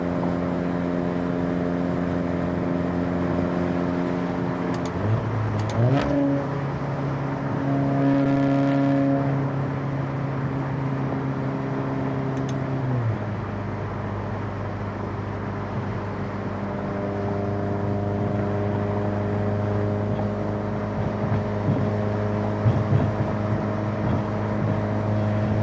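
A car drives with the windows rolled up while a low cabin resonance drones, steady engine tones rising and falling through gear changes and revs, a constant interior hum with no talking.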